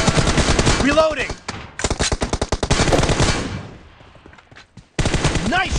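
Rapid automatic gunfire from PUBG Mobile in a team deathmatch, firing in fast loud bursts that start and stop with short gaps, close and dominant.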